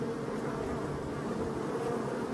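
Honeybees at forest beehives hum in a steady, dense drone close by, with many insects buzzing together and no voices over them.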